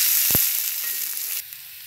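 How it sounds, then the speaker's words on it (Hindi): Onions sautéing with mustard seeds and green chili in a pan for restaurant-style macaroni give a steady, bright sizzle, with one short thump of stirring early on. The hiss eases slightly toward the end. "प्याज को मुझे सॉटे कर लेना है।"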